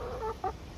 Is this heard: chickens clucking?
yes